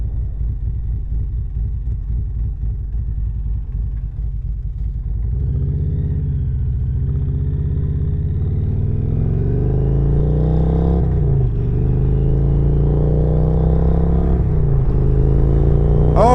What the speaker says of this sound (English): the bike sounds amazing as well